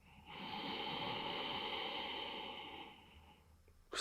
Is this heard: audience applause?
no